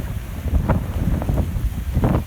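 Strong wind buffets the microphone outdoors in a village in San Pedro, Ecuador. The roar is loud and continuous, with gusting swells and no talking.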